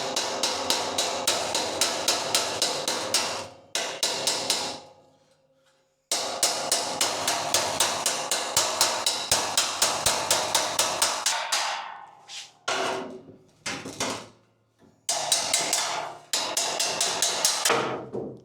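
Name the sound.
hammering sheet metal on dolly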